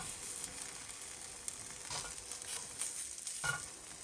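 Aubergine slices fry in a thin layer of oil, giving a steady close sizzle with soft crackles and a brief stir or pat of the pan about halfway through. Nobody speaks.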